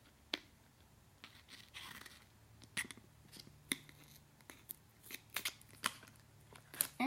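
Scissors snip through a paper flag to give it a pennant shape, a quiet, irregular series of short crisp cuts close by with soft paper rustling between them and no talking.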